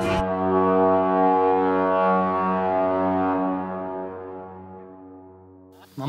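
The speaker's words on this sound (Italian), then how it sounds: "O meglio clacson del paese, mi è costato parecchio" A loud, custom car horn sounds as one long sustained blast with a rich, brassy, foghorn-like tone, slowly fading over several seconds before a brief restart at the end; no speech.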